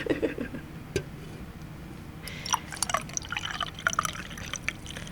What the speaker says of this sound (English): Let me pour some more tea while I think about it.